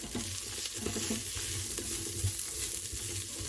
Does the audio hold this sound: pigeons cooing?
no